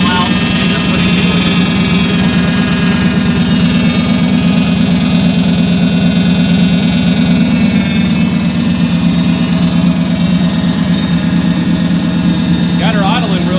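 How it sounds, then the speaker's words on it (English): A turbocharged LS V8 idles in a Nissan G35 drift sedan, a steady, close, low rumble with a constant throb that runs unchanged for the whole stretch. "Got her idling real good"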